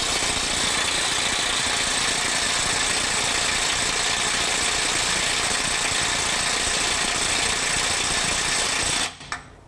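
A mid-torque impact wrench in power mode 1 strains against a fastener set at 150 foot-pounds, giving a loud, continuous buzzing hammer for about nine seconds before cutting off abruptly.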